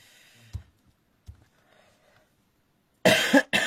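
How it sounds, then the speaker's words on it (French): A person who has had a cough for three weeks coughs sharply and loudly near the end, after a few faint throat sounds and small clicks in an otherwise quiet room. "3 semaines que je tousse. C'est quand même pas normal."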